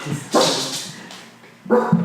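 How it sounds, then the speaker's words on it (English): A dog barks a few times nearby indoors: two or three sharp yelping barks, a pause, then another short burst of barking, with no talk over it. "Oops, sorry guys. That's Chewy barking over there."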